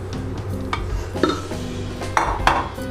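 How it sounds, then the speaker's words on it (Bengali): A utensil stirs chow mein with vegetables in a rice cooker pot, giving clinks and scrapes against the metal over a steady cooking hum. "এবার এটা ভালো করে আমি মিশিয়ে নেব।"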